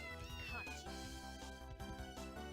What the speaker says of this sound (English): Oh, look, another cat.